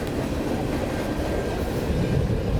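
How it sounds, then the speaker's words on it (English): A freight train rolls past a platform, a loud, continuous rumble of wagons with faint clickety-clack and a brief high wheel squeal, close and steady throughout with no talking. "We're talking about Via trains and we're stopping and looking at freight trains."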